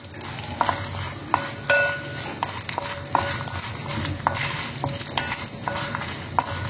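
Urad dal roasts in hot oil in a pan, giving a steady sizzling crackle. A spoon scrapes and taps against the pan in a regular rhythm of stirring clicks, close up, with no talking.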